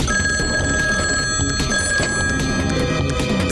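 A telephone bell rings insistently in a cartoon scene, a bright continuous trilling tone that stays loud and unbroken throughout, with no voices over it.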